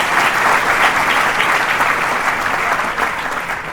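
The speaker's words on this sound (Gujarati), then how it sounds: "ખૂબ તાળીઓના ગડગડાટ." A Gujarati gathering's audience breaks into loud, dense applause, a sustained roar of many hands clapping that eases slightly toward the end.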